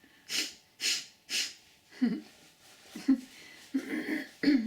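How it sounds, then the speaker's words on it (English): Breathing exercise with breath forced out through one nostril: three strong airy whooshes in a steady rhythm, then several shorter snorting, throaty puffs, close and fairly loud with no clear words. "Pick one nostril and exhale through the other."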